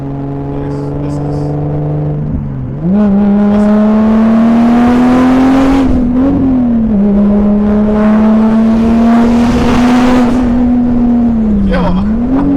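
Turbocharged 2JZ-swapped BMW E30 on BBS wheels, engine running loud and close with a steady, strong idle-like drone that dips and rises in pitch several times over roughly twelve seconds, with no talk over it.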